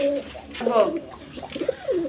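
A pair of Shirting pigeons coos in short, soft, repeated phrases nearby, while someone talks over and between them.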